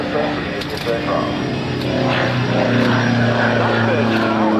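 Sukhoi aerobatic airplane performing at an airshow, a steady loud engine drone with propeller tones rising and shifting in pitch, heard throughout under an announcer's commentary.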